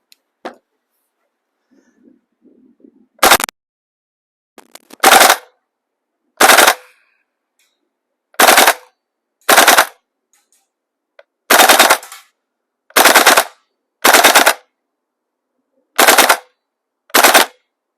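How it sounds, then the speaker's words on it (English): A VFC M16A1 gas blowback airsoft rifle on propane with 0.28 gram BBs and a 30-round magazine fires full auto in about ten short, sharp bursts, loud and close, separated by silent gaps. "Put that in, and we're going to go on full auto."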